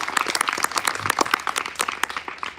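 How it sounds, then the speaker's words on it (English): Audience at a showcase performance in Botswana clapping in applause, a lively patter of individual hand claps at moderate volume, fairly close and continuous. "One more round of applause for David, please."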